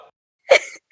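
A single short, sharp sneeze bursts out close by, with near silence around it.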